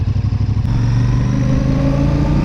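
Close, loud pulsing of a Royal Enfield Super Meteor 650's engine and stock exhaust, a low throbbing beat that settles into a steady drone while riding in the wind.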